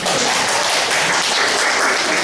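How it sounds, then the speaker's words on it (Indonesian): A classroom audience gives a student dense, steady applause from many hands, loud and continuous throughout with no pauses. "Kasih aplaus pada Mas Bruri"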